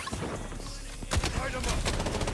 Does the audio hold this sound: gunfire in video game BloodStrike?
yes